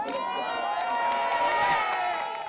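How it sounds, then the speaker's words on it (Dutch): Supporters of France's socialist party cheering after the regional elections, a dense crowd of voices whooping and shouting in a steady, loud roar that holds for a few seconds. "Het zijn eerder de verliezers, de socialisten, die juichen."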